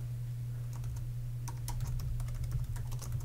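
Fingers type on a computer keyboard, producing a quick, irregular run of close key clicks over a steady low hum.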